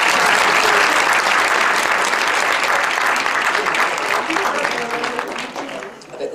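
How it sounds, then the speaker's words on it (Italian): A theatre audience at a live concert at Teatro Traiano in Civitavecchia claps loudly in a dense, sustained round that thins and fades near the end. "Facciamo un applauso."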